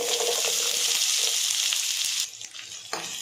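Onions sizzle and fry steadily in hot oil with cloves, cinnamon and fennel seeds, a loud dense crackle that drops briefly near the end before picking back up, with no voices.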